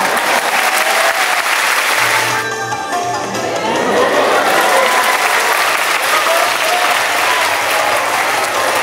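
Loud, sustained audience applause fills a traditional Japanese spinning-top (koma) performance at a school arts appreciation event, steady throughout with a brief dip partway and faint mechanical whirring beneath the clapping.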